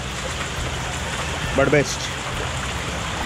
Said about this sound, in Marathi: आपण खाली आलोत आणि पाऊस सुरू झाला आहे.